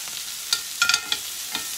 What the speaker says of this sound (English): We're just going to grill it.